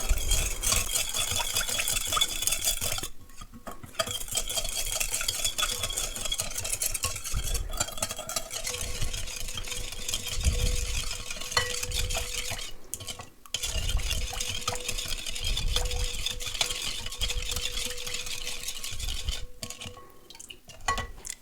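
A spoon stirs potato salad dressing of sugar, salt and pepper in a bowl, making continuous scraping and clinking against the dish with brief pauses.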